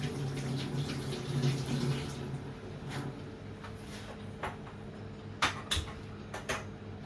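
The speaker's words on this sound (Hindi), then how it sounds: "हाथ धो लेता हूं मैं।" Running water pours steadily from a tap as hands are washed in a home kitchen, a soft continuous splash with a few faint clicks and knocks toward the end.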